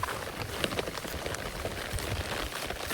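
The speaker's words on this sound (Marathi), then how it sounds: "आता पाऊस चालू झालाय, हा बघा" Steady rain falls on surfaces near a swelling river in the Konkan countryside, a constant close hiss of drops with no voices.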